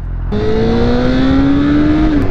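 A motorcycle engine runs loud and close, its droning tone rising steadily in pitch as it pulls under acceleration, then easing off at the end.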